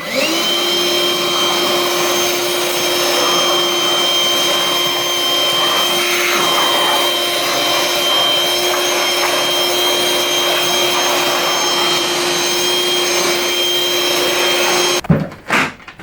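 Ryobi One+ 18V cordless wet/dry shop vacuum running steadily while sucking up a thick layer of sawdust, a loud continuous motor whine for about fifteen seconds before it cuts off abruptly with a few knocks.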